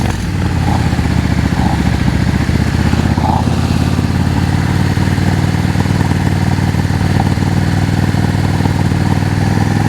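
A motorcycle with a very sensitive throttle drones loudly and steadily at low speed during slow-speed riding practice, its engine holding a rough, even mid-pitched rumble with slight rev swells and no talking.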